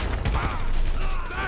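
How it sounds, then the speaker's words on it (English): Rapid, dense gunfire rattles through a shootout with police in the video game GTA V. The shots are loud and continuous, with overlapping bursts and no pauses, and faint talk sits under them. "Now I need to shoot cops with auto aim"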